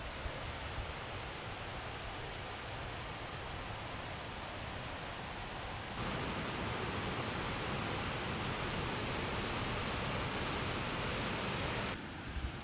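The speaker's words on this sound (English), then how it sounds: "we walked down, you can hear the water" Flowing water in Blagaj, Bosnia, a steady broadband rush like a stream or small cascade heard close, constant throughout, growing slightly louder midway, with no one speaking.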